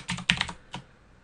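A few quick keystrokes tap on a computer keyboard, a short burst of crisp clicks followed by a single later press, close and clear with no talking.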